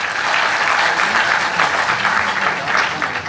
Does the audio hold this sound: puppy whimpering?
no